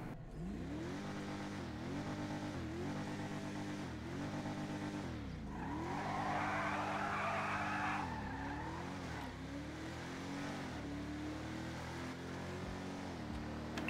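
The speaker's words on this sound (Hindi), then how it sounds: "चलो अब हम इस कार का साउंड और इस कार की टॉप स्पीड को टेस्ट करते हैं।" A Mercedes-Benz A45 AMG car mod in GTA 5 accelerates through repeated gear shifts with rising engine whine, while tires squeal and skid midway through, steady and continuous.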